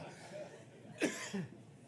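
A single short cough breaks the quiet midway, followed by a faint throat sound.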